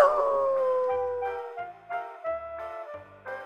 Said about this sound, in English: Only bad little puppies cry.